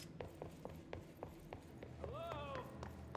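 Horse hooves clip-clop in the video game Control, a steady rhythm of sharp evenly spaced hoof knocks over a low background rumble, joined briefly by a whinny-like tonal call.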